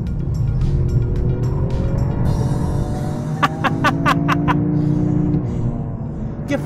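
A Toyota GR Yaris accelerates hard on a race track. The loud exhaust drone rises in pitch through several gears, with a burst of sharp crackles partway through.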